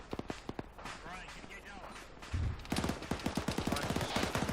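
Infantry gunfire in the military video game Arma 3, heard as rapid sharp bursts and single shots under people talking, growing denser and louder toward the end.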